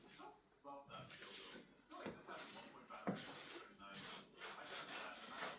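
Stuck egg is scraped off a frying pan in rough, rasping strokes, faint and close, with a voice talking over the scraping.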